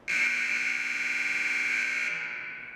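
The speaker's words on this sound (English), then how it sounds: "And when the final buzzer sounded this April" A loud, harsh electronic final buzzer at the end of a game blares in one steady tone for about two seconds, then cuts off and fades.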